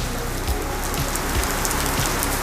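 Steady heavy rain pours down at the Treasure Island Resort in Lonavala, a dense even hiss of drops hitting surfaces close by, with no voices.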